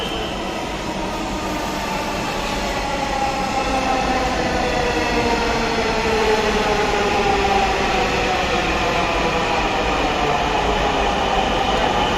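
A Dhaka metro train heading toward Mirpur 10 rumbles steadily from inside a car, with a rising motor whine, faint wheel squeal and continuous loud rail noise, and no voices.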